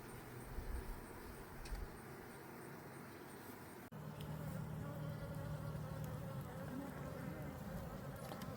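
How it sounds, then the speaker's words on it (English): Angry honey bees swarm around a two-queen hive just after a box is lifted, a dense continuous buzz close by with many overlapping wingbeats, softly rising and falling over several seconds, with no talking. "You got some angry bees here"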